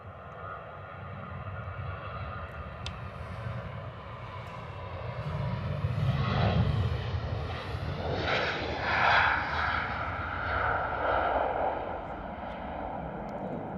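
A Boeing 737 jet climbing away after takeoff: a steady, broad engine roar with a rising whine that swells to a peak midway and then holds, heard from a distance with no talk.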